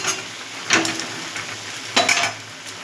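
Potato and lentil fritters frying in hot oil in a kadai, a steady background sizzle broken by two louder clattering bursts of a utensil turning them, no voices.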